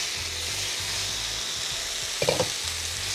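A filling fries in a pan, a steady hissing sizzle with low rumbling underneath and a short burst of spatula stirring near the end.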